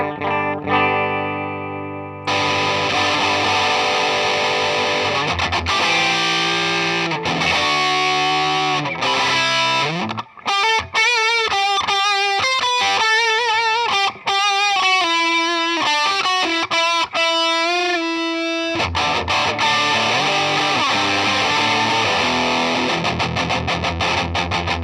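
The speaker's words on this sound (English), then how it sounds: "So this first one is a Ratatouille Distortion." Electric guitar through a Line 6 Ratatouille distortion model, a rat-style pedal: thick, saturated chords ring out, then a run of rhythmic picked notes and more sustained distorted strumming, loud and upfront.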